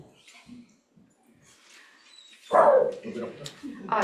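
A little puppy gives a sudden loud bark and yelps, close by, after a stretch of quiet with soft talk, during a church Sunday service gathering.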